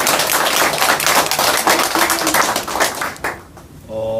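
Crowd at a Korean political rally applauding loudly and steadily, dense sustained clapping that fades out near the end as a tone begins.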